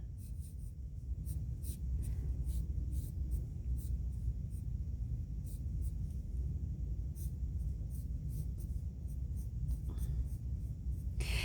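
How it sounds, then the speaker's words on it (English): A pencil scratches steadily across paper while a full cartoon figure is drawn, with continuous soft scraping strokes and occasional light taps, close and quiet against a low room rumble. "And I'm drawing"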